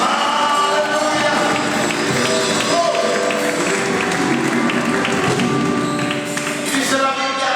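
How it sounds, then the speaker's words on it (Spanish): A church congregation claps and cheers in a loud, dense wash of applause and voices, with rhythmic tapping and shouts layered throughout a crowded hall. "Alguien aplauda fuerte a Rey"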